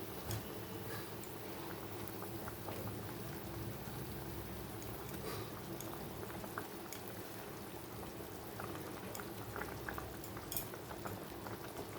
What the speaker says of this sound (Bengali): ঝোলটা খুব ভালো মতো ফুটে গেছে